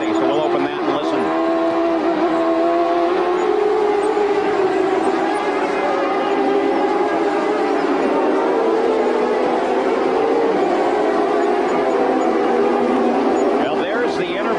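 Onboard engine of Michael Andretti's CART race car at the 1996 Toronto street race, a steady high-pitched drone that holds continuously and loud throughout, with a commentator talking over it.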